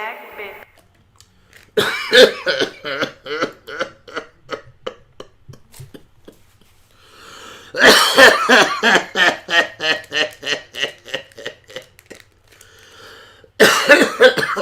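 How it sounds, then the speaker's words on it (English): Repeated bursts of harsh coughing and choking gasps, close and loud, come in three clusters separated by short quiet gaps. "when I cough and choke like that"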